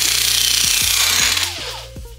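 A Makita DJN161 cordless nibbler chews through sheet metal with a loud, rapid, harsh chattering buzz up close, then winds down and stops as the cut ends.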